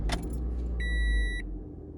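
A 2016 Toyota RAV4 starts with a short chime and a brief electronic tone over a low engine rumble, heard up close.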